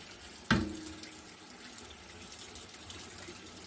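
Cold water running steadily from a kitchen tap into a sink after butter-making, a soft continuous hiss and splash that begins with a brief knock, close and fairly quiet.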